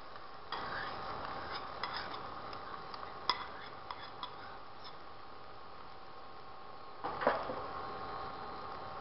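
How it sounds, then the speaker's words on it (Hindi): Yogurt is spooned into a pan of dum aloo and stirred through, giving soft scraping and wet stirring sounds with a low background hum, a few sharper utensil taps, and a louder clatter near the end. "अब इसमें हम डालेंगे दही"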